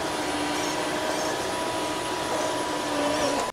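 A MOVA M50 Ultra robot vacuum cleaner runs with a steady, loud whirring hum that holds constant throughout and cuts off abruptly at the very end.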